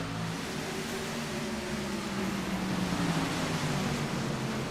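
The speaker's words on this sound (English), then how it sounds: "Pace car is off in the hands now of Christopher Pfeffer, who stamps on the loud pedal." Race car in a racing video game accelerating at the green flag start at New Hampshire, a steady engine drone climbing gradually in pitch, moderately loud and without voices.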